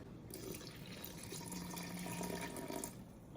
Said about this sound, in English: Now we're gonna add in our water.